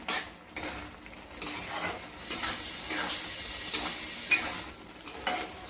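A spoon stirs grated radish bhaji frying in a pan, giving soft scraping and clinking against the metal over a gentle sizzle, with irregular strokes and no voices.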